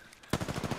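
Gunfire in Apex Legends bursts in suddenly after a quiet moment, a rapid string of loud, punchy shots in quick rhythm, close and dominant with no talk over it.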